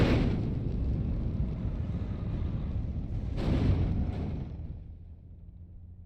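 Bombs exploding in the war strategy game Steel Division 2, a low rumbling roar of blasts with one heavier boom partway through before the noise fades to a quieter drone. Nobody speaks.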